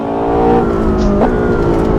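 A 1990s racecar engine revs on the Nordschleife in a racing video game, a loud, close, sustained whine that shifts pitch as the car accelerates and changes gear.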